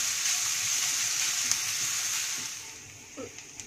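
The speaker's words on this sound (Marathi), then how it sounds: "यामध्ये कांदा घालूया आणि कांदा 2 मिनिट गुलाबी रंगावर परतून घेऊया" Chopped onion sautéing in a pan for pav bhaji, giving a steady bright hiss and crackle that slowly fades, with a few faint stirring taps toward the end and no voices.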